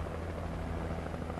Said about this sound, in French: faut suivre l'hélico